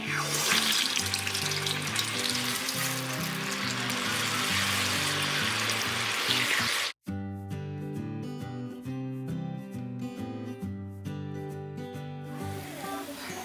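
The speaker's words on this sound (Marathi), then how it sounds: "आपण हे तेल गरम झालेले आहे एक एक वडे काढून घेऊया" Medu vada frying in hot oil gives a loud, dense sizzle for the first half, then drops to a quieter crackle with faint bubbling after an abrupt break.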